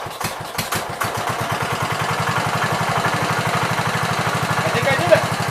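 A John Deere 110 lawn tractor engine on full choke cranks with a few uneven pulses, then catches and runs with a rapid, steady firing rhythm, loud and close.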